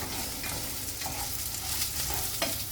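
Lentils and spices sautéing in a pan for a curry leaf chutney, a steady close sizzle with a few light stirring scrapes and clicks, no voices.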